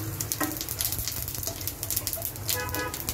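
Cumin seeds crackle and sizzle in hot oil, with asafoetida already added, over a medium gas flame in a home kitchen; a steady close frying hiss runs throughout with small pops.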